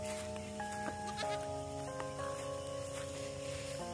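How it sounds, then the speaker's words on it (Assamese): Goats bleating on a rural outing: several overlapping, sustained wavering bleats in quick succession, fairly faint and a little distant, over quiet outdoor background. "মোক বেয়া পায় হ'বলা ছাগলীয়ে দৌৰহে লৈছে"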